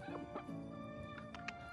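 Chickens cluck softly in short, scattered calls in Cornwall, heard faint and somewhat distant against a quiet background.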